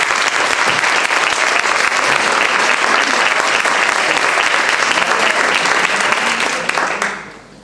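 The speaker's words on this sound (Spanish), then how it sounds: "un aplauso otra vez para ellos" Audience applause fills the room at a book presentation for selected historical short stories, a steady, loud wash of clapping that holds for several seconds before fading out at the end.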